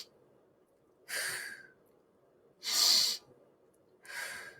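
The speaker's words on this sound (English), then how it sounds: "you can hear the guy breathing along with you" A recorded man breathing slowly in a guided breathing exercise app: three separate breaths, each a soft, airy rush lasting about half a second to a second, with quiet pauses between them and no speech.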